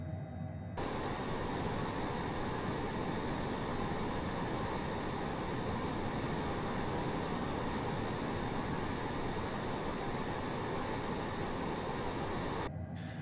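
Steady, loud jet engine roar from an MG HJet light jet climbing after takeoff in a flight simulator, holding a constant drone throughout with no talk, beginning and ending abruptly.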